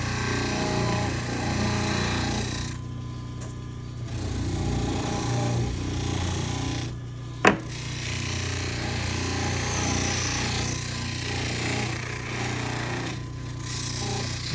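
A rotary lathe hums and grinds steadily while a denture is polished with high-shine polish, the tone shifting as the piece is pressed on and off, with one sharp click midway.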